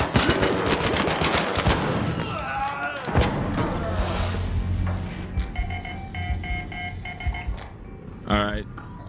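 Video game gunfire crackles in rapid automatic bursts and single shots, loud and close, with electronic alert tones and people talking over the action.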